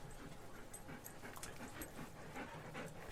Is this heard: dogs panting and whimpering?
yes